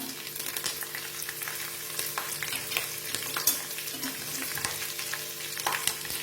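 Garlic, green chili and curry leaves fry in a pan, a continuous crackling sizzle with occasional scrapes of stirring, moderately quiet and close with no talking.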